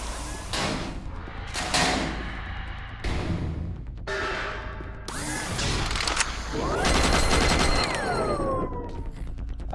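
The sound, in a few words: chain gun firing in the video game Doom 3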